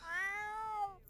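Single clear cat meow from The Sims 4 video game, a close, moderately quiet tonal call with a slight rise and fall, heard alone.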